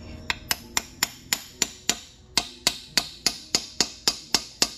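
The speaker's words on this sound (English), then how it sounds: "we made this, and it's made it to press fit. We're gonna bang it in." Sharp metal hammer blows drive a press-fit part into a hole in a Honda AWD conversion build, about fifteen evenly spaced ringing strikes in a steady rhythm, close and loud with no talking.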